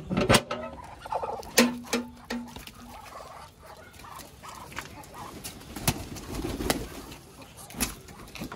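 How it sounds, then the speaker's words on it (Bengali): Pigeons cooing and fluttering on a rooftop among chickens and ducks, with sharp wingbeats and scattered knocks over a quiet outdoor background and faint human voices. "মুরগিগুলারে একদমই শান্তি দিতেছে না আর এই যে কবুতর গুলাও নামতেছে সবগুলাই নামছে একসাথে"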